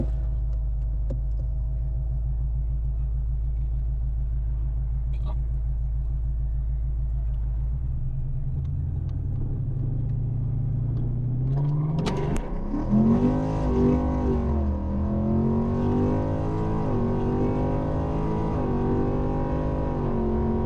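A Coyote-swapped Ford Foxbody Mustang idles with a deep rumble, then revs up and accelerates hard on a pull, its engine note rising through several sweeps, loud and close.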